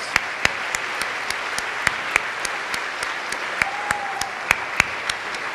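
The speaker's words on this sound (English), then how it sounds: "Ladies and gentlemen, give them a round of applause." Audience applause at the 2018 Dairy Festival pageant, thin and sparse with distinct individual claps ringing out over a light patter, holding steady without cheers.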